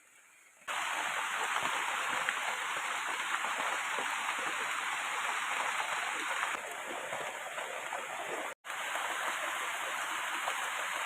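Steady, dense rain hisses continuously after a quiet start, briefly cut off near the end before resuming.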